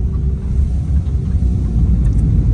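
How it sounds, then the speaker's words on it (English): A car driving along a rural road gives a loud, steady low rumble from inside the cabin, with a continuous engine and road drone and no talk. "I don't know why the car is making a noise."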